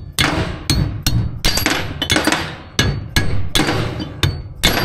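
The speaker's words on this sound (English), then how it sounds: "They are bullnose, so you can hammer on them a little bit." Loud metal hammer blows ring out at an uneven pace, roughly a dozen sharp strikes with short gaps between them, hammering out bullnose wheel studs on a Duramax dually's rear brakes, close by and without talk.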